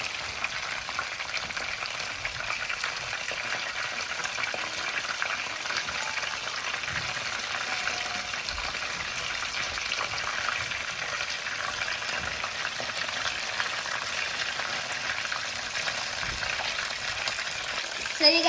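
Shrimp rolls fry in a pan with a steady, loud, close sizzle that runs unbroken throughout, with a small bump of movement at the very end as they are turned.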